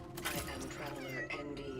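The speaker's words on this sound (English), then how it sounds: "I heard a kitty." Cat meowing in the video game Cronos: The New Dawn, a drawn-out, wavering cry heard close over a steady background hum.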